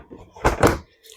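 An Aerobin compost bin's lid is opened or closed in a garden, giving two close, solid knocks in quick succession with no talk.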